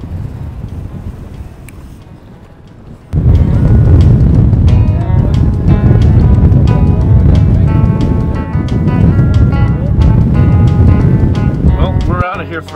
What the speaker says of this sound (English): Man, it's windy as hell up.